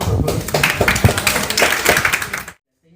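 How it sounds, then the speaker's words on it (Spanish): A short burst of audience applause in a medical teaching session on liver examination, dense clapping for about two and a half seconds before cutting to silence. "Lo estimulamos con un aplauso, por favor."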